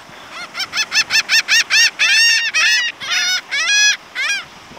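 A flock of seagulls being hand-fed calls nearby in a rapid run of short, loud, harsh squawks. The calls then lengthen into overlapping drawn-out cries, with no talking.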